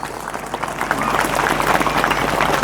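An audience at an Islamic religious lecture breaks into applause, starting sparse and building into steady, fairly close clapping that keeps going to the end.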